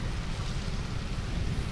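Heavy rain pours down steadily in Pathankot, a dense, continuous broadband wash with a strong low rumble and no clear breaks, loud and close throughout.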